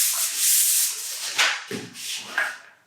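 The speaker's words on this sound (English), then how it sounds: "a sanding pad on a roller pole has just," A sanding pad on a roller pole rubs across a sprayed ceiling, a close, steady hissing scrape that comes in several strokes, with short pauses between passes.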